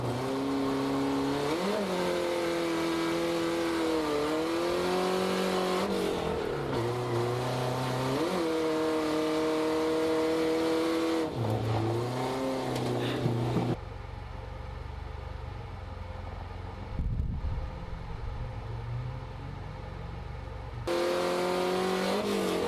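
Drift car at a drift competition, its engine revving up and down in long sustained wails, loud and close, with a stretch of lower steadier drone partway through before revving resumes.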